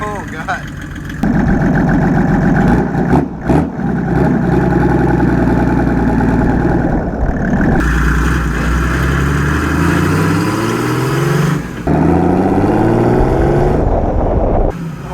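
A turbo diesel Datsun 240Z engine runs loudly, idling and revving with rising and falling pitch sweeps as it pulls away, close and dominant throughout.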